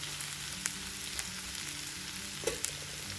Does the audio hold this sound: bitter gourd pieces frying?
yes